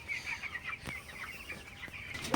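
Broiler chickens clucking and squawking close by, a busy flock with overlapping calls and a few sharp flutters, no talking.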